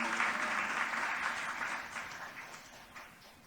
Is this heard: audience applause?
yes